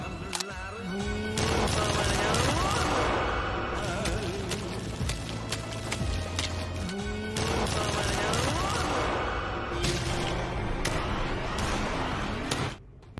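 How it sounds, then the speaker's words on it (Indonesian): Rapid gunfire rings out in a zombie film, bursts of shots layered over a dense, loud action soundtrack that runs continuously throughout. "Cowok itu pun datang dan langsung menembak mereka bertiga."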